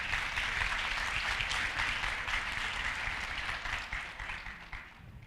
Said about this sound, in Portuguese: Gostaria de uma salva de palmas para minha esposa